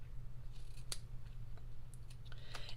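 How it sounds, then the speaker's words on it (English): Scissors snipping ribbon during candy cane crafting, a few quiet, sharp clicks and short cuts close by in a still room. "Okay, I'll get my scissors here."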